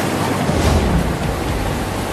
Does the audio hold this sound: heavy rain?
yes